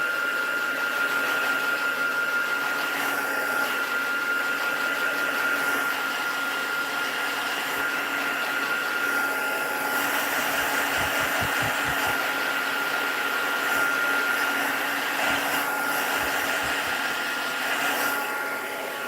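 A heat tool blows steadily over embossing powder on card stock, a constant loud whirring hiss that holds for the full stretch with no gaps.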